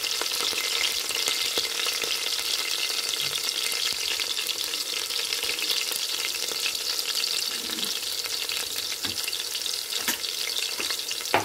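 Green chillies frying in hot oil until golden brown, a continuous bright sizzle with dense crackling and occasional sharper pops, close up and steady, with no talk.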